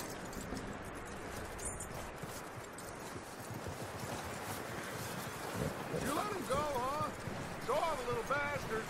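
A horse's hooves clip-clop steadily over ground in Red Dead Redemption 2, accompanied by wind and ambient outdoor noise, with faint chirping later on.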